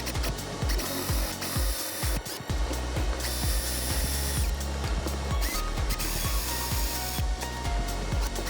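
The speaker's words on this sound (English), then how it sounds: "drill out the top of your pilot holes just a little bit to give the head of the screw somewhere to go" A power drill bores pilot holes in wood for countersunk screws during a sailboat refit, with a steady whirring motor and repeated short bursts of cutting as the bit bites, loud and close with no talk.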